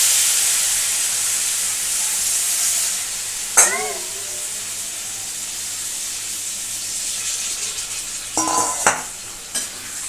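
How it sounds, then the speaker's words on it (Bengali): Water poured into a pan of well-fried spice masala for a Bengali potato and egg curry, giving a steady steamy sizzle and hiss that eases off, with a few sharp clinks and stirring knocks. "আর একটু পরিমাণ মতো জল আমি দিয়ে দেবো।"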